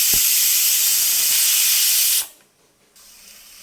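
A pressure cooker cooking dal lets out a loud, steady steam whistle-hiss that runs strong for about two seconds, then cuts off abruptly, leaving quieter room noise behind.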